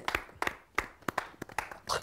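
Scattered hand claps from an audience at a Holi poetry gathering, sparse and uneven bursts rather than a full ovation, fairly quiet and close.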